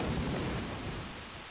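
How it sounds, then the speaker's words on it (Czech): Thunderstorm in the Pokemon White video game, a low rolling thunder rumble over steady rain hiss, fading slightly toward the end, with no speech. "Taková silná bouře."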